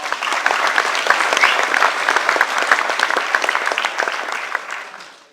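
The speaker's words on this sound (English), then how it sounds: "can we have a large round of applause for Mark?" A lecture audience gives a speaker a big round of applause, dense steady clapping from many hands that holds strong for several seconds and then fades out.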